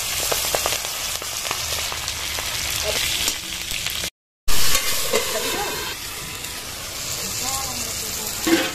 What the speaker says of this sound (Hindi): प्याज और मिर्चा हमार कुछ ऐसे टाइप के ब्राउन के होतले बढ़िया से तल दे है। ओकर बाद थोड़ा से मेथी डाला थे